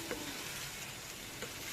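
Bitter gourd (ampalaya) and eggs fry in a pan with a steady, soft sizzle. Two faint clinks or stirring touches sit on top, and no one speaks.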